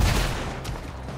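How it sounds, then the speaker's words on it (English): A rifle fires in the western video game Red Dead Redemption 2, giving one short, loud, booming gunshot burst with a rumbling decay, close and without talk. "That's my powerful ass rifle."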